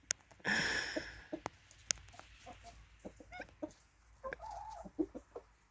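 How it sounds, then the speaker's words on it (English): A cockerel clucks in short, scattered bursts, fairly faint and outdoors at a cabin, with a brief louder squawk near the start. "He does cluck away."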